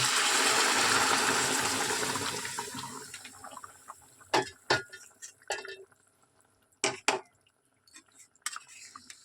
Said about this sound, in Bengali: মাংস যে সিদ্ধ করেছিলাম এই গরম জলটা আমি এবার দিয়ে দেবো।